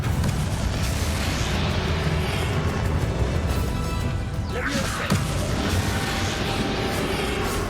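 Confringo and Bombarda spell blasts in Hogwarts Legacy, loud and dense crashing booms with a swooshing burst midway, over a constant roar of battle noise.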